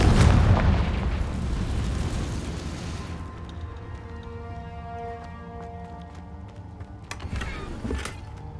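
A fiery Confringo spell blast erupts loudly up front in Hogwarts Legacy, its boom decaying into a ringing magical tail, followed by lighter chiming spell effects and a smaller pop near the end.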